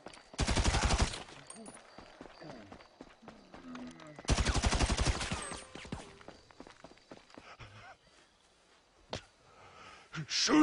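Automatic gunfire in Grand Theft Auto 5, two long rapid bursts close and loud, followed by scattered single shots and footsteps, with voices talking in between.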